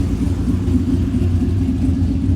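A freshly built car idles steadily at its first start-up, a close, loud, even low rumble with a slight pulsing and no voices.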